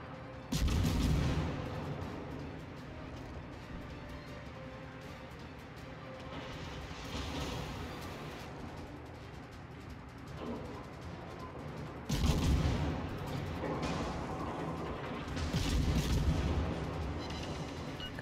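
Ship cannons boom in World of Warships as the Italian cruiser Raimondo Montecuccoli fires double salvos, loud heavy blasts near the start and again around the middle and end over a steady engine and battle rumble.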